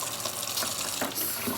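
Hot water running steadily from a kitchen tap, a soft continuous splashing stream heard alone for a moment.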